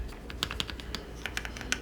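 Typing on a Keychron Q6 HE mechanical keyboard, a quick irregular run of close, crisp clacking keystrokes heard alone.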